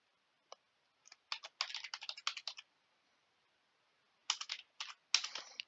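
Computer keyboard keys clatter in quick bursts of close typing, pausing for a couple of seconds mid-stretch before a few more rapid runs of keystrokes, with no talking.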